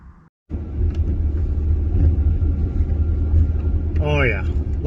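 1993 Ford Ranger on a test drive after a coolant filter change, a steady low engine and road rumble from inside the cab with someone talking over it and a brief creak near the end.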